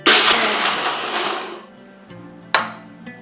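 A mixer grinder jar coarsely grinding cashews and almonds, a loud dense whirring burst that fades after about a second and a half, followed by a quieter pause and a brief sharp clink near the end.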